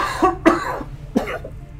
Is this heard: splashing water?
no